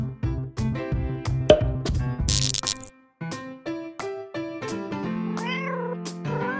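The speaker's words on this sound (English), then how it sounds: "Orange cat." An orange cat meows several times in a row, clear and close, with short tonal calls repeating amid brief gaps and a sharp noisy burst partway through.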